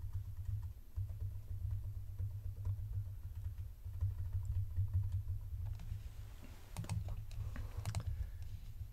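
Keys on a computer keyboard, likely the arrow keys, are pressed repeatedly while moving shapes in Tinkercad, soft scattered clicks over a steady low hum, with a few sharper taps near the end.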